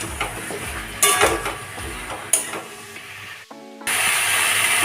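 A spoon scrapes and clinks against a pan while turmeric, cumin, coriander and chili powder are stirred in for a hilsa fish curry, with a few sharp metallic knocks and a low sizzle underneath.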